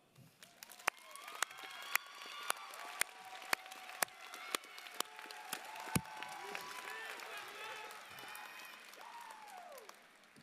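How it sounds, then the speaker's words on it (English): Graduation audience applauding student speakers and award recipients, scattered sharp claps with distant cheers and voices, moderately faint and building into a steady wash. "Please join me in giving them a well-deserved round of applause."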